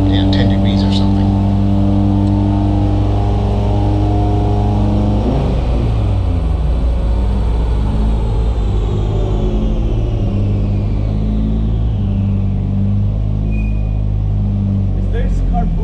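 A loud Mitsubishi Evo 9 engine with a Garrett G42-1200 turbo revving hard up close on a dyno, the pitch climbing and then winding down in a long sustained roar with a steady low drone beneath.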